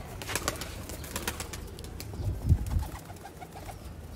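Sialkoti pigeons coo softly in a few low, throaty bursts near the middle, set against a faint background of rustling and clatter.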